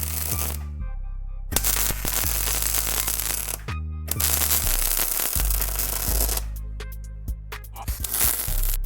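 Tack welding on steel shock mounts for a Ford Galaxy makes loud, close crackling and sputtering bursts that start and stop several times, with short quiet gaps between the welds.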